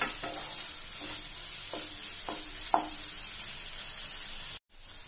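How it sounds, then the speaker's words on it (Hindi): Paneer bhurji sizzles in a hot pan while a spoon stirs and mixes it, giving a steady frying hiss with several soft scraping strokes at an even pace, close by and without talk. "इसको चला देते हैं, इसको मिक्स कर देते हैं अच्छे से।"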